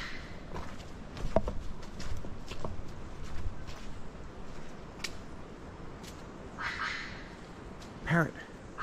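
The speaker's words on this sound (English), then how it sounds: "Hear the parrot?" A parrot calls in a Caribbean mountain forest on St. Vincent, two short harsh calls late in the clip over quiet rustling and soft footsteps outdoors.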